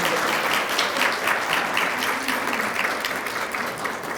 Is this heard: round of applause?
yes